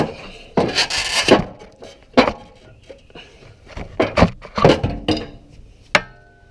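A Nissan 350Z upper control arm is worked loose and pulled from the suspension during a TruHart part install, giving a series of close, loud scraping and knocking bursts separated by short pauses.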